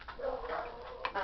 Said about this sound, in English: I am too lazy to stop filming to go shut my dogs up